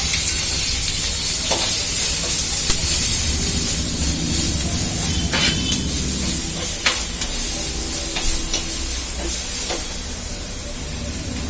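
Steady, loud sizzling of onions frying in hot oil, with occasional scraping stirs and pops, no voices.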